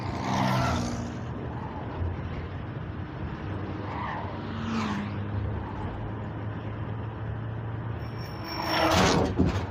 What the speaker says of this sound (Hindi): ये गाड़ी जिसके साइकिल जैसी आवाज होती है।